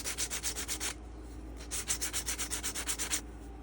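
Hand sanding the sharp edges off an old brass hammer: two bursts of quick, rhythmic rasping back-and-forth strokes, about eight or nine each, separated by a short pause, close and fairly quiet.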